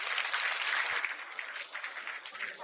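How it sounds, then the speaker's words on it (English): Audience applause at a talk on turning stress into strength, partners clapping for each other in a steady crowded patter that thins and softens slightly toward the end. "Please give your partner a round of applause."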